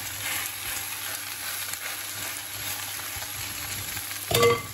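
Vegetable patties frying in a pan, a continuous close sizzle with light crackling, swelling into a louder burst of spitting near the end.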